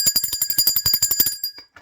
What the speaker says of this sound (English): Let the God ring the bell for that.